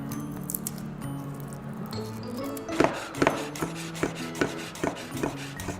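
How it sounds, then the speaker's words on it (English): Knife slicing through three garlic cloves on a cutting board, a run of crisp, evenly spaced taps from close up, starting about halfway through after a quieter stretch of soft kitchen handling. "Firstly, I'm just going to slice up these 3 garlic cloves."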